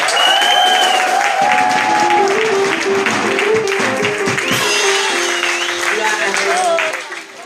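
A church congregation claps and cheers together, a loud sustained wave of applause with voices and whoops mixed in, fading out at the end.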